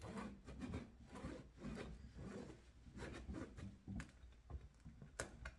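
A knife rasps back and forth through the crusty loaf of a homemade no-yeast bread, giving repeated scraping saw strokes, close and fairly quiet.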